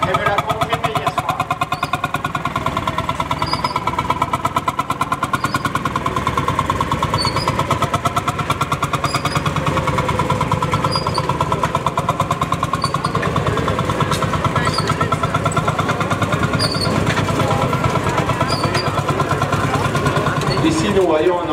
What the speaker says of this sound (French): Donc c'est un tracteur donc, à boule chaude construit en Italie.